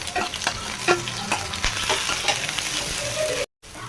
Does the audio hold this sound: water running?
no